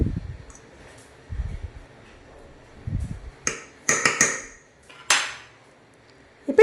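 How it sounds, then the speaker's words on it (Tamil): A spoon stirs madakku paniyaram dough in a metal vessel, producing several bright, distinct clinks and scrapes against the sides, with softer low knocks in between, close by and without talk. "முதல்ல ஸ்பூனை வச்சு நல்லா கிளறி விட்டுக்கோங்க"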